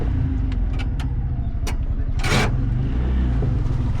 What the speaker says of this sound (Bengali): গাড়ি আছে দেখো, গাড়ি বাইক আছে।